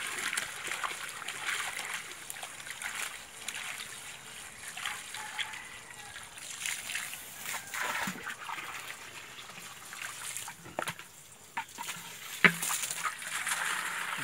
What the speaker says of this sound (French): Je remplis ça d'eau.